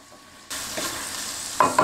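Diced carrots and garlic start frying in a pan when a burst of sizzle sets in, then keep up a steady crackle with a couple of louder clatters near the end.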